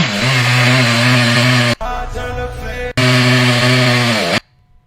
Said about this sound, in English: Dude with a fucking chainsaw.